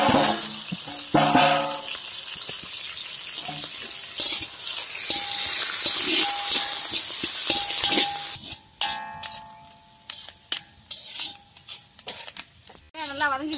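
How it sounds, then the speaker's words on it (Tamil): Chillies fry in a pan with onion added, giving a steady loud sizzle with stirring and scraping of a utensil against the pan, then clatter and splashy frying noises follow, with a voice speaking over parts of it. "மிளகா வதங்கிடுச்சு. இப்ப வந்து வெங்காயம் சேர்த்துக்கலாம்."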